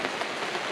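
Rain falls on a wet campsite near a car, giving a brief, steady hiss of drops without any voices.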